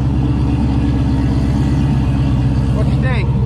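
A 1200hp turbocharged Camaro idles loud and close with a steady, lumpy rumble throughout, a person talking over the engine near the end.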